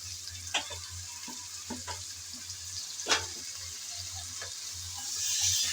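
Crab pieces dropped into a pan of frying potatoes for a Bengali crab curry, a steady sizzle with occasional scraping stirs and clinks of the spatula, close and moderately loud, no talking.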